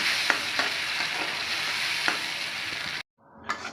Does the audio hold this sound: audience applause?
no